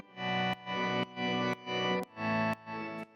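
A gritty, distorted organ synth plays pulsing, sidechained chords, chopped into six rhythmic swells with a pumping, ducking feel and bright clicks between them.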